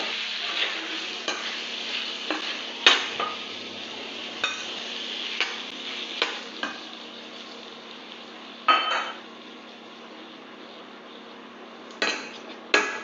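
A spoon stirs three dates with five hundred grams of tomatoes cooking in a pan for chutney, under a soft steady sizzle, with repeated sharp taps and scrapes of utensil on pan at irregular intervals.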